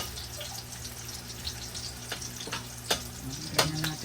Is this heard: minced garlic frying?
yes